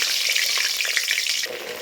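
Steady, loud sizzling of eggplant frying in hot sesame oil, a dense crackle that eases slightly toward the end.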